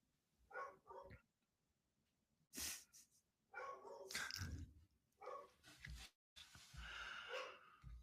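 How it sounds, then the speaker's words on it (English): A pet dog barks in short loud bursts at close range, several separate volleys with gaps of near silence between them and some snorting breaths, no talk over it. "My dog is just barking."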